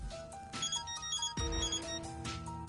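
A phone ringing in the Death End re;Quest video game, a repeating electronic ringtone melody with short tonal bursts, moderately loud against a quiet background.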